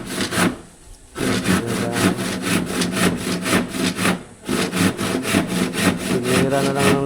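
A hand saw cuts through a wooden door in rapid, rhythmic back-and-forth strokes, loud and close, with a brief pause near the start and another midway.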